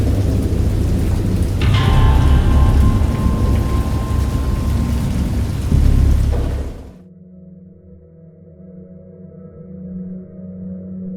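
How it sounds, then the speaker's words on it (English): Heavy rain pours loudly with a rumble of thunder in the video game Dagon, then cuts off abruptly to a soft, low ambient hum. "I heard pearls of thunder and other tones which nature utters only in her wildest moods."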